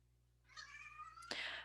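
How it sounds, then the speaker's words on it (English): A cat gives a single drawn-out meow indoors, faint and somewhat distant, ending in a brief rough burst. "that's my roommate's cat in case you heard him"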